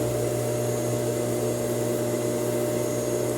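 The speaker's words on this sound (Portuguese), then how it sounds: "Agora eu vou fazer no overlock o acabamento na lateral toda" Overlock serger stitching the side seams of a blouse, a steady, continuous mechanical whir with a low hum, running without pause and fairly close.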